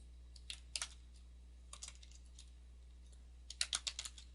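Light typing on a computer keyboard while entering a category name in WordPress, with soft scattered keystrokes building to a quick cluster of clicks near the end, close and quiet over a steady low hum.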